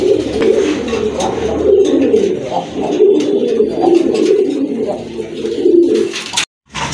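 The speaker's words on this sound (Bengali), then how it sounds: "ডান পাশে এটা হচ্ছে নর কবুতর, বাম পাশেরটা কিন্তু মাদি কবুতর।" White Shirazi pigeons, a male and female pair, coo steadily in low rolling phrases, loud and close, with brief murmuring voices in the background.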